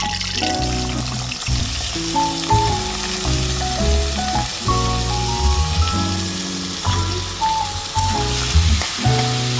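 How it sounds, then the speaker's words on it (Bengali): Sliced onions fry in hot oil with bay leaves in a loud, dense, continuous sizzle and crackle, close and steady with no pauses. "তেল গরম হয়ে গেলে এখন এটার মধ্যে আমি পেঁয়াজ যে কেটে রেখেছিলাম সেগুলো দিয়ে দিব বেরেস্তা করার জন্য"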